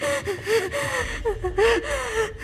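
Karin, a character in The Devil in Me video game, gasps and wheezes through an asthma attack. Strained, pitched breaths come close and loud in an irregular rhythm, with short gaps between them.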